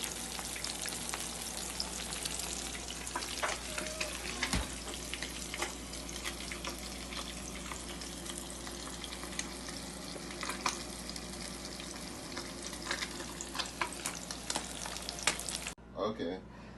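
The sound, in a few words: fish frying in oil for escovitch fish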